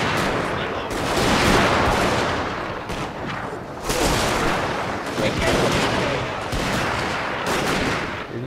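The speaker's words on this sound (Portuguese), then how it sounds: "Eu comecei a atirar, né? Com essa tropa de bolsa amarela." Dense volleys of massed musket gunfire from troops in the battle game Fall of the Samurai crackle continuously in overlapping bursts, loud and close, with a few louder peaks.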